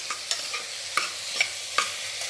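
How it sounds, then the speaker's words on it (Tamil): Long-cut eggplant strips sauté in oil for vangi bath, a gentle sizzle broken by several sharp spatula scrapes and knocks at uneven intervals, close and clear. "கத்திரிக்காய் நீளமாக நான் அரிஞ்சு வச்சுருக்கேன். இது நல்லது எண்ணெயிலே வதங்கணும்"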